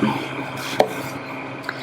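A knife quarters fresh tomatillos on a cutting board in a kitchen, giving a couple of sharp, close chopping taps against a quiet background.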